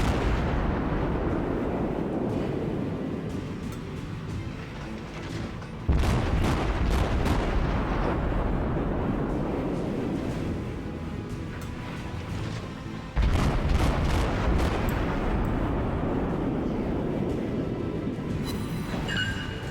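Naval cruiser gun salvos in World of Warships, from the Tier 6 cruiser Cleveland: heavy booming volleys with rumbling tails, two especially loud blasts about seven seconds apart over continuous battle rumble.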